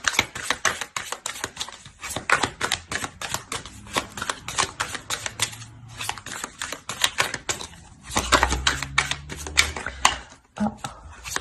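Tarot cards are shuffled and dealt out with dense, rapid flicking and riffling clicks in uneven bursts, broken by short pauses and a few soft taps as cards land on a surface.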